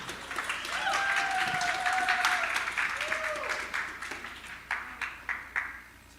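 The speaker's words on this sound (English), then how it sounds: "again applause to Mikołaj" Applause for a presenter at an online WarsawJS tech meetup, with steady clapping and some voices over it that thin out into a few separate claps before stopping.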